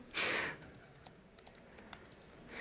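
Keys clack on a computer keyboard, a scattered series of light, close taps at an uneven typing rhythm after a brief louder rustle at the start.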